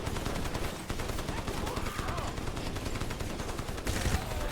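Machine gun fire in the video game Crysis, a dense continuous rattle of rapid gunshots with rumbling battle noise, loud and unbroken throughout.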